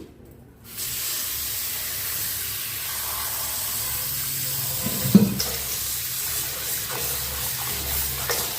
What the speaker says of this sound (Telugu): ఇలా ఒక బౌల్లోకి తీసుకోవాలి ఒకసారి వాష్ చేసుకుందాం